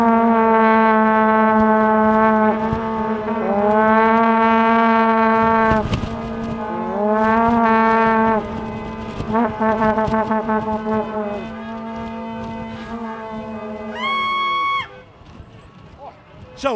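Brass band at a carnival parade in Handel plays loud sustained horn chords and tooting melodic phrases, with voices and crowd noise between the notes.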